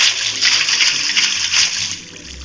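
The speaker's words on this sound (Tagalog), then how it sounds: "At dito naman maglalagay tayo ng tubig." Water is placed in Minecraft beside stone bricks while building a sugar cane farm, giving a steady rushing, trickling flow that plays alone and eases off near the end.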